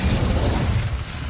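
Fiery spell burst cast in Hogwarts Legacy, a loud crackling whoosh with heavy low rumble filling the moment, dense and close, fading slightly toward the end.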